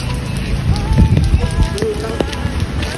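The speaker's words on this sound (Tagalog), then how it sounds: "Umuulan po dyan." Rain falls outdoors as a dense, close patter on surfaces, with murmured voices faintly mixed in.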